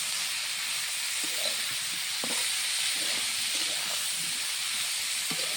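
Cauliflower frying in oil in a pan, a steady soft hiss and sizzle with faint scattered crackles and occasional clinks, close and quiet.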